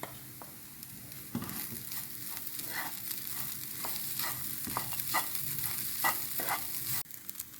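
Fried, ground chicken mixture stirred in a pan for chicken bread pola, with rhythmic spatula scrapes and taps over a soft frying sizzle, close up and moderately quiet, ending with a sharp knock.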